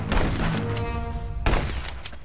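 Gunfire in the border-police game Contraband Police, a few sharp shots in quick succession over a steady low rumble, fairly close and loud, with a short tonal hum in between.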